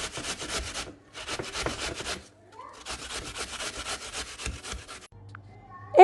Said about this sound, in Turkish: Ve şimdi elmaların hepsini rendeleyeceğim.